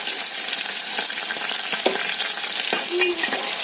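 Tempering of fenugreek, mustard seeds, cumin, onion and curry leaves fries in hot oil in a pan for Andhra gongura dal, a steady close crackling sizzle with a few sharper pops and no voices.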